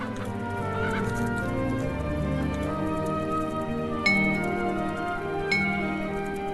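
Electronic chicken clucks from the video game Abeille Simulator over a steady synthetic music bed, with two brief bright chime-like blips partway through.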